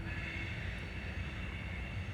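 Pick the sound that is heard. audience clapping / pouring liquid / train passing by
train passing by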